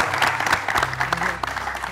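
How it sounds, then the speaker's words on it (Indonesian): Audience applause breaking out after a speaker's praise, a short burst of brisk clapping from a crowd with a low hum underneath. "Saya apresiasi ya. Tepuk tangan."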